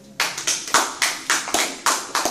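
Congregation clapping in rhythm in a church, a steady pattern of sharp group claps close by, roughly three to four beats per second, with no voices over it.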